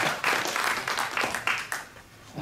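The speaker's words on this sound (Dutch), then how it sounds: "Geef hem een applaus." Applause from an audience at a Dutch talk welcoming a speaker presenting his PhD research, a short burst of many hands clapping with some individual claps standing out, moderately loud and fading slightly toward the end.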